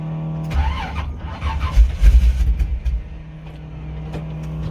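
A car with a weak battery cranks on a cold start, with a low, labored rhythmic churning that builds in loud pulses for a couple of seconds and then drops back to a steady hum.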